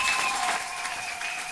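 A short burst of applause, brisk clapping from a group that fades slightly toward the end.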